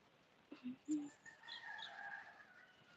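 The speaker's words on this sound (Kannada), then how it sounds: "ಎಲ್ಲ ಹಕ್ಕಿಗಳು ನೋಡಿ ಹೋಗ್ತಾ ಉಂಟು" Faint birds outdoors give a few short calls, then a thin high chirping trill continues softly in the background over quiet ambience.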